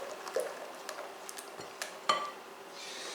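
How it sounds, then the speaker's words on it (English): Minced garlic stirred into a zucchini casserole mixture, with scattered light scrapes and clinks of a utensil against a bowl, close and fairly quiet. "Stir that in."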